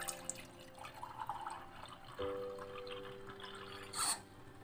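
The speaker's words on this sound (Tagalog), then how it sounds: "Nilagyan natin ng kunting tubig." A little water poured into a pot of pinaksiw made with milkfish intestines, a short trickle and splash followed by a soft gurgle, close and fairly quiet amid light kitchen noise.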